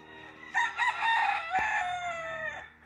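A gamecock crows once, a clear, close crow with a stretched ending, over quiet background hum, no talk.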